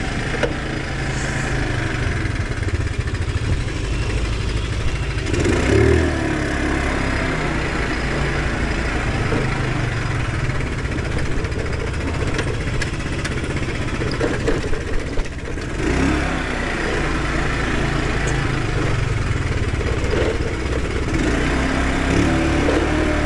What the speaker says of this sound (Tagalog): Tunog makina rin ng ano, bangka.